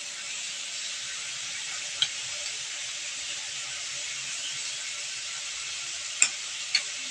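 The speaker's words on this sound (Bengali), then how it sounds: "দিয়ে ভালোভাবে মশলাটা কষিয়ে নেব।" Ginger and cumin spice paste fries and is stirred in a pan for aubergine chutney, giving a steady, moderate sizzle with a few sharp scrapes or clicks of a utensil.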